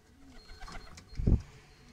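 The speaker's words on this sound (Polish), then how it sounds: "Tutaj kolejny gołąbek ląduje" A racing pigeon lands at the loft after a 185 km competition flight, giving a few soft, low coos close by, followed by a short muffled flutter or thump.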